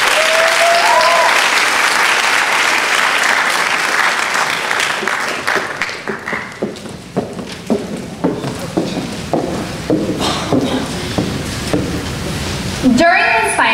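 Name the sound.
audience applause for a speaker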